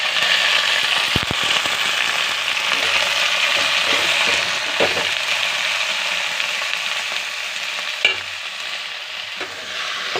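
Spinach leaves sizzling loudly in a pan with fried onion and chili, a steady close hiss of frying broken by a few clinks and scrapes of stirring.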